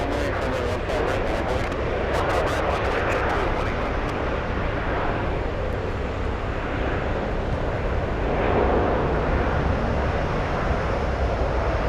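A jet airliner on the flight from Las Vegas takes off at the airport, a sustained broad engine roar rising and falling in waves, with a few faint clicks early on and no clear speech.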